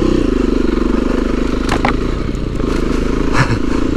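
A Beta 390RR dirt bike rides a rocky wooded trail, its engine a loud, steady, close two-stroke drone with rhythmic pulsing, plus occasional clattering rocks and thumps from the terrain.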